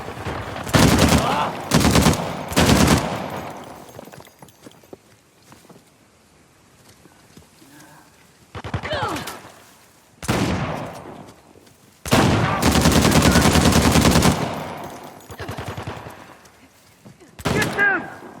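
Gunfire in Uncharted: The Lost Legacy comes as several loud bursts of rapid automatic shots, separated by quieter gaps, with shouting voices between volleys.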